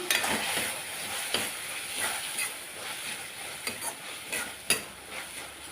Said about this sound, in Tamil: ஓப்பன் பண்ணிடுவோம் கிண்டி விட்டுருவோம்